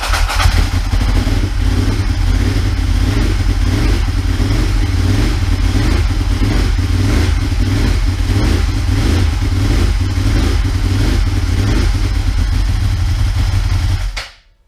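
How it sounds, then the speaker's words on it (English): A Ducati 748 motorcycle engine fires up and runs loud and close at a steady, lumpy idle with rapid even pulsing and a mechanical clatter, holding constant before cutting off at the end. "Start the bike quickly and see what we get."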